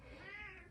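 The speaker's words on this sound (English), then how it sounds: "That's my cat again." A house cat indoors lets out one brief, soft meow that rises and falls over less than a second, faint and alone.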